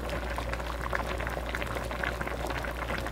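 Kimchi stew boils in a dented metal mixing pot, giving a close, steady, dense bubbling with small pops and a low simmering rumble. No one talks.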